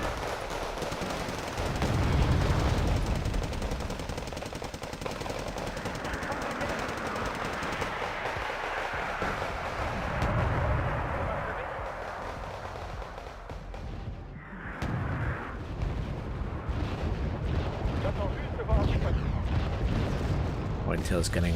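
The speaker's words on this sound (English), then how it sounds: "they're just mortaring me into submission" Mortar fire pounds units in the strategy video game Wargame Red Dragon, a dense, loud, continuous barrage of booming impacts and rattling gunfire with rumbling explosions, with a voice talking over the combat.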